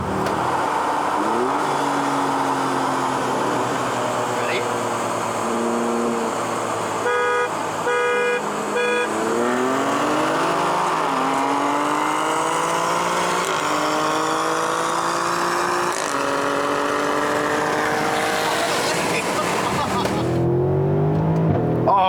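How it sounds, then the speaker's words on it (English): A 2018 Mercedes-AMG GLC 63 launches hard off the line, its engine roaring close and loud as it climbs through a series of rising revs with quick shifts between gears, and a voice talks briefly over it. "the Mercedes feels quicker off the line just because it has the race start option"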